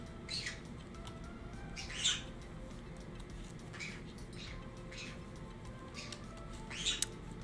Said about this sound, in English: my birds are going to start flying in a moment while shrieking